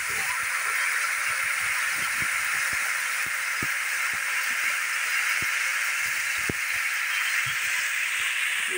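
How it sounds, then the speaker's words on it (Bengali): Water poured into a hot pan while cooking a fish curry sends up a loud, continuous hiss of sizzling steam, broken by scattered faint pops and crackles, with no talking. "জল ঢেলে দিলাম।"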